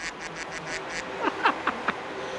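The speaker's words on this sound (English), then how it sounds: "it's a quack attack" Duck quacking sound effect during an iRacing broadcast, a quick run of nasal quacks, six short evenly spaced ones followed by four louder, sliding quacks, close and clear with no talking.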